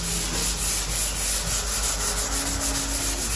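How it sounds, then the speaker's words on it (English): Sandpaper rubs back and forth across a cedar dining table surface, a steady close scratchy sanding stroke heard alone without talk. "you're just going to come back in with your sandpaper"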